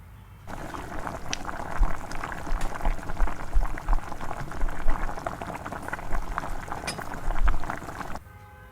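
Water boils for upma as semolina is gradually added, a continuous bubbling, churning rumble with bursts of splashing, close and moderately loud, with no talking.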